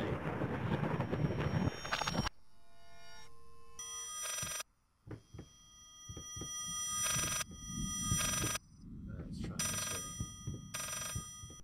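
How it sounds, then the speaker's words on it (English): An old telephone bell rings in bursts in the horror game Layers of Fear, loud rings separated by quiet gaps, with some windy rumble and noise between them. "the way the phone's ringing is a hint to go around the other way"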